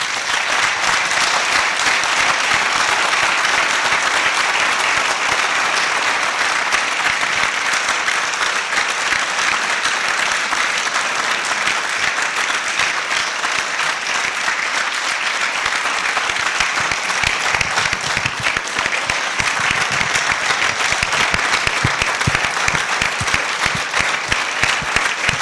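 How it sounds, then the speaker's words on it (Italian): A crowd at a university inauguration ceremony claps in sustained, loud, even applause that holds steady for nearly half a minute without talk. "Vi chiedo un applauso per mia mamma."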